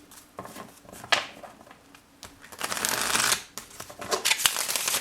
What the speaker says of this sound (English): One last shuffle for Gemini.